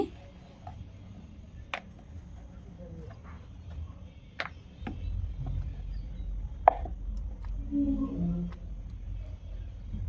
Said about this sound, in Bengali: দেখতেই পাচ্ছ কীভাবে বেলছি